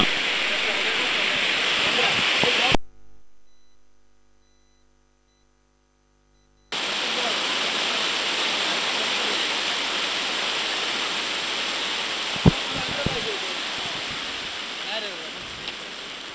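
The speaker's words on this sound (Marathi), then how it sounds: "धो पाऊस 14-15" Heavy rain pours down at an outdoor village cricket ground during a tournament match, a loud continuous roaring hiss that cuts out to near silence for a few seconds and then returns, with a couple of faint knocks and voices later.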